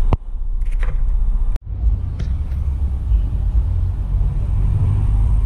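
A bus engine revs while its oil-pressure gauge is checked for a suspected oil pump or oil sender fault, giving a loud, steady low rumble close by, briefly cut by a sharp click partway through, with no talking.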